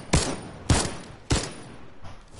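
Three sharp, booming game gunshots spaced about half a second apart, each with a short echoing tail, ending in quiet.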